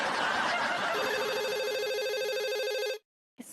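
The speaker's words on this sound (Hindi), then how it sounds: "इसका फोन आ गया" A telephone rings on a Hindi TV comedy set: a loud, steady electronic trill repeating for about two seconds after some background chatter, then cutting off abruptly, followed by a brief silence and a faint click.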